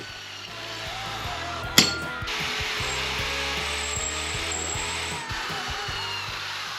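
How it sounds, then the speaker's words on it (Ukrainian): Holes are drilled through a car jack and the frame of a homemade motorcycle lift stand, a steady whirring drill with a rapid rhythmic chatter and one sharp metallic knock partway through, close and unaccompanied by talk. "Далі я просверлив три отвори в домкраті та в самій рамі під гвинти"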